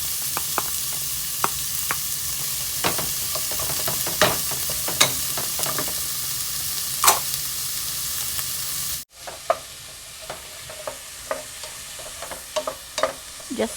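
Onion sautés in a pan with a constant bright sizzle and frequent stirring clicks and scrapes, and the sizzle drops suddenly quieter partway through; no voices.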